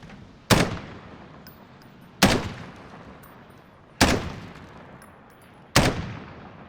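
Four loud, evenly spaced single gunshots from a first-person shooter, Call of Duty Modern Warfare, each a sharp crack with a decaying tail, with bullet impacts on a metal shipping container. No talking.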